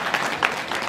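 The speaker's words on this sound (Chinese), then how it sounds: "那我们的热烈的掌声来感谢师爷的精彩喂食哦。" An audience at an aquarium feeding show claps, a short, dense burst of applause heard close and moderately loud after a diver finishes feeding the fish.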